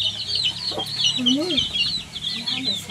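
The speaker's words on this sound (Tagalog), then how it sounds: "Ito yung mga sisiw." Chickens cluck and little chicks peep busily nearby in a backyard, a continuous close chatter of calls with a few low clucks rising above the high cheeping.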